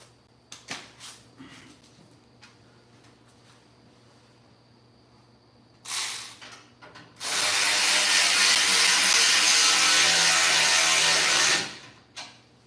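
A ratchet works on a clamp on a 1968 Chevrolet C10 truck, with scattered clicks and clanks, a short burst, then about four seconds of loud steady rasping before it stops, with no talk.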